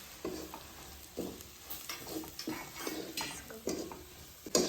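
Mutton frying with asafoetida, turmeric, salt and other spices in a pan over a wood-fired stove, with a steady sizzle and repeated scraping strokes of a spoon against the pan, close and fairly loud throughout.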